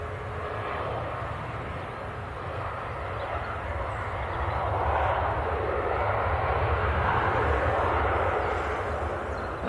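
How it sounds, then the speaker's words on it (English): An easyJet Airbus A320 arriving from Paris Charles de Gaulle at Manchester Airport, about to touch down, gives a steady, moderately loud jet engine roar that holds broad and even throughout, swelling slightly midway. "Have EasyJet just about to touch down."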